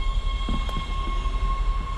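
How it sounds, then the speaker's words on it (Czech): Cartoon train rolls along real rails with steady rumbling and a few wheel knocks, set against a persistent tonal hum, with no talking. "Opravdový vlak!"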